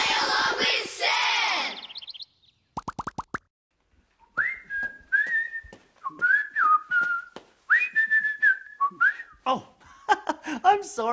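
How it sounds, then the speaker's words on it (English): A person whistles a cheerful tune alone, a string of clear sliding notes in short phrases after some brief sounds at the start. "I forgot I was whistling"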